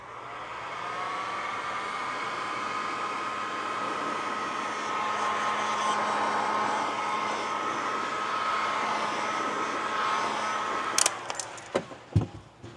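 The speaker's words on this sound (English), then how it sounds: "is get those edges warm. It doesn't take a whole lot. Again, those heat guns have a lot more control." A heat gun warms the edges of a vinyl gas cap graphic on a Ford Bronco, giving a steady loud airy whoosh with a constant hum that runs continuously for about eleven seconds before it cuts off, followed by a few handling clicks.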